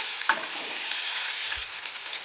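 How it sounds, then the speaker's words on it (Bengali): Chicken pieces with onion and garlic sizzle steadily in hot oil in a pan, with a brief stirring scrape near the start and a soft knock later. "এরপর দিয়ে দিলাম 2 পিস চিকেন, হালকা করে ভেজে নাড়াচাড়া করে দেবো।"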